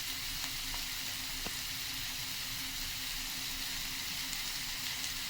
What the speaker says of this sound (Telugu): ఉల్లిపాయలు వేస్తున్నానండి. ఉల్లిపాయలు ఎగుతున్నాయండి.